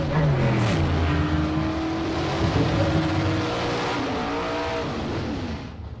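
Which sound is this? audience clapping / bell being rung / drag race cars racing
drag race cars racing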